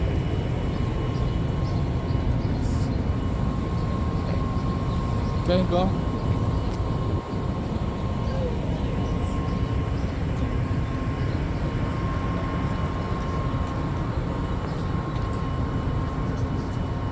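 Inside a train traveling from Fresno to Hanford, California, a steady, loud rumble and hum continues throughout, with a brief voice and a faint tone partway through.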